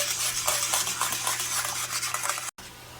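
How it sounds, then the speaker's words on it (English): Sweet and sour sauce being stirred in a pan as it thickens, a soft continuous scraping and bubbling close up, cut by a brief dropout near the end. "we're going to continue to stir until it thickens to the consistency that we want it"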